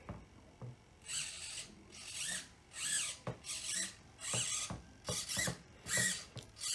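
Servos on a Ben Buckle Super 60 radio-controlled model airplane driving the throttle, rudder and elevator, heard as a run of short, whiny electric buzzes in quick repeated bursts, close up and with no voice.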